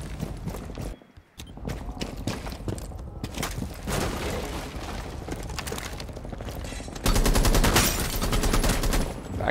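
Rapid gunfire from the video game Rainbow Six Siege, dense bursts of shots and mechanical clatter filling the clip with loud, continuous sustained fire and a brief gap near the start.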